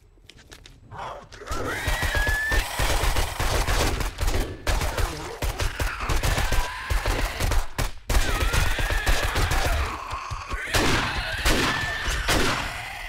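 Gunfire in the zombie survival game 7 Days to Die, played on day 39: close shots spread irregularly over several seconds, set among other game noise.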